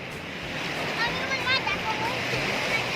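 Sea waves at Cha-am beach in Thailand make a steady, hissing wash of surf close by, with voices talking over the water throughout.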